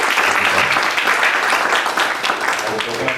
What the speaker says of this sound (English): A big round of applause for CA Girish Kaushik.